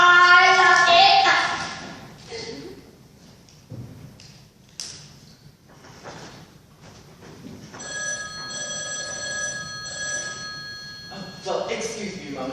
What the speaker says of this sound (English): excuse me a moment, Harvey, but I have to answer the phone